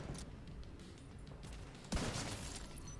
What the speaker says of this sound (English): I shoot and you die.